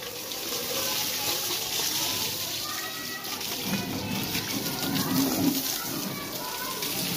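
Water splashing and sloshing over a Suzuki Bolan van during a hand wash, a continuous wet spray close by, with someone talking over it.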